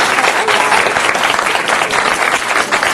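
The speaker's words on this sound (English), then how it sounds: "Let's give a round of applause as they are coming up." Applause fills a city council meeting as children come forward for a graffiti prevention program, a dense, steady clapping from a crowd of hands held throughout.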